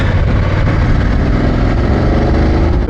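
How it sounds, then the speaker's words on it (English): BMW F900GS 2024 parallel-twin motorcycle engine and exhaust running steadily in road mode, a loud continuous drone with an even tone throughout, no voices. "Parallel twin engine, it's smooth, it's nice, it's not got the oomph like a V-twin. You've got a nice tone to the exhaust."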